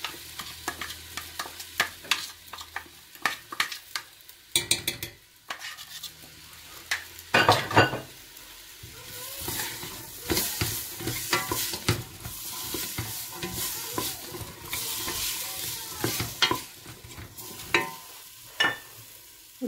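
Ingredients fry in a pot for harira, a Moroccan soup, with a low sizzle under frequent stirring, scraping and clinks of a utensil against metal, irregular and close, with a few louder knocks.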